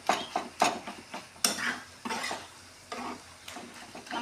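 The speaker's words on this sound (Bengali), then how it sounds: "এখন আবার নাড়া দিয়ে দেব।" Pui shak (Malabar spinach leaf) bharta being stirred in a pan, with repeated scraping strokes and a light sizzle underneath, close and moderately loud, with no voices.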